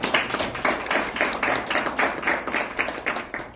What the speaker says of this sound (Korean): 우리 다 같이 우리 박수로 환영합시다.